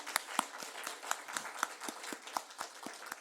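A church congregation claps in a steady, quick rhythm, about four claps per second. The claps are sharp, fairly faint and slightly distant, like a group clapping in time during a worship service.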